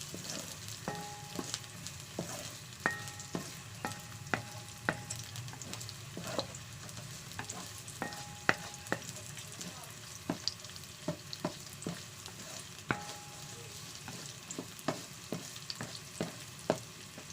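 Ginger stir-fried in a pan for a smoked fish dish, a soft continuous sizzle with regular light clinks and scrapes of a utensil against the pan, close and fairly quiet with no talking.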